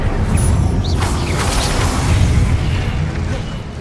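A rumbling, roaring burst of fire from the Incendio spell in Hogwarts Legacy, a loud whooshing blaze sustained for several seconds before easing slightly.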